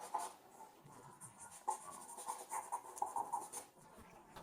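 A pencil draws lines on paper in a run of soft, close scratching strokes, quick and repeated with brief gaps between them, with no one speaking.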